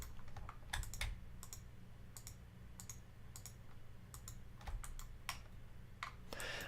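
Computer keyboard keys pressed in short clusters of crisp clicks and taps, repeated shortcut presses with irregular gaps, close and fairly quiet, with no talk.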